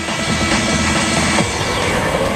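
A helicopter's rotor and engine roar steadily and loudly throughout, close by, with no talk over it, at a tractor-pulling event in Toldijk.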